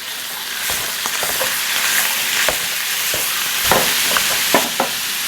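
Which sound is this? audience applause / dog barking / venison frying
venison frying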